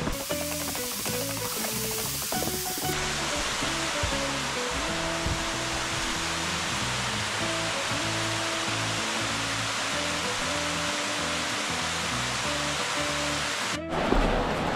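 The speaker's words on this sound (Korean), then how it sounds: "계곡 물소리 들으면서 걸으니까 너무 좋습니다." Steady rushing water from a mountain valley stream at Daedunsan's Surak Valley, a continuous dense wash of flow with no voices, constant and fairly close throughout.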